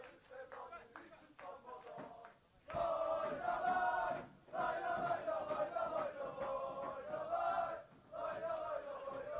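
Malatyaspor supporters chanting in unison for their team at a football match, a loud, rhythmic massed chant with sustained sung phrases broken by brief pauses, heard close below the commentary position.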